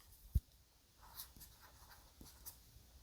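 Faint, scratchy writing strokes, like a pencil moving across paper, in short bursts on a quiet background.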